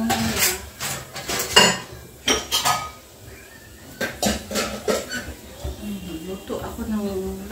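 Pots and utensils clatter while lunch is cooked in a home kitchen, with sharp metallic clinks and scrapes in irregular bursts, a brief hiss, and someone talking between and over the sounds.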